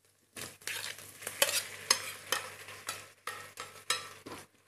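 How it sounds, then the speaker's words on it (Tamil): Six chopped tomatoes stir-fried in a pan for tomato biryani, with repeated close scraping strokes of a spoon over a steady sizzle, each stir a loud burst in an uneven rhythm. "போட்டு நல்லா ஃப்ரை பண்ணுவோம்."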